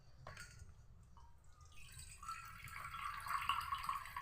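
Water poured from a bowl onto one and a half bowls of sugar for syrup, a soft splashing trickle that builds and grows louder toward the end, close by and alone.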